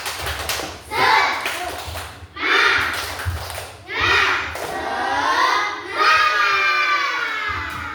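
Children clap and shout together in a classroom spirit chant, several bursts of group clapping and excited voices rising and falling alongside a teacher's talk.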